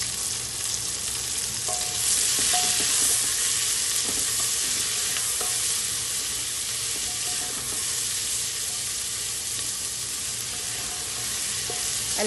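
Sliced onions fry with cumin seeds in a hot pan, giving a steady, close sizzle with faint scrapes and light knocks as they are stirred. No one talks.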